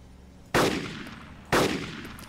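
Two loud, sharp gunshots crack about a second apart in Arma 2 DayZ, each decaying into a brief echo over quiet background ambience, with no talking.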